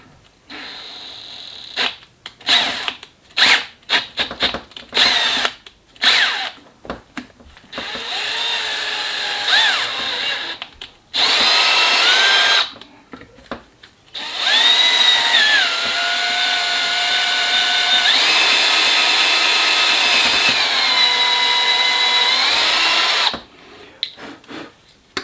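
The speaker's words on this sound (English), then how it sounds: "Go ahead and you drill at this angle here" A power drill bores through aircraft flap material during a kit install, its whine starting and stopping in short bursts, then running in longer sustained passes with pitch shifts under load, loud and close.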